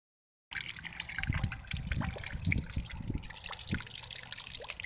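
Steady trickle of water pouring down into a bucket, a continuous close liquid splash and gurgle with no talk over it.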